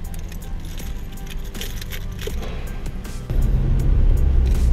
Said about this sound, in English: Okay, I got my keys